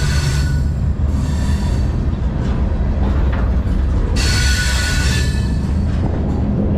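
A freight train rolls along BNSF tracks between Peoria, Illinois and Clinton, Iowa, heard from on board as a loud, constant rumble with rattling wagons, clanking mechanisms and bursts of high wheel squeal.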